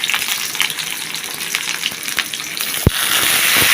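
Green chilies dropped into hot oil in a pan fry with a loud, close, continuous sizzle and crackle, one sharp knock partway through.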